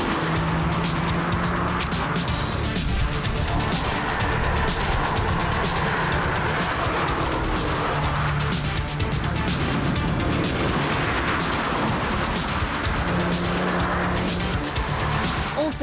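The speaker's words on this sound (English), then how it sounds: "Chris Murphy was enjoying the hill climb's twisty bits in his Renault Clio RS" Race cars, including a Renault Clio RS and a Golf GTI, climb the twisty Knysna Simola hill climb course, engines roaring loudly and continuously with tire squeal and cars passing close by.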